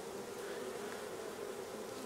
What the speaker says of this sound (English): colony of bees